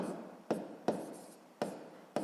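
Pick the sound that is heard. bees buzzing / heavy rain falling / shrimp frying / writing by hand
writing by hand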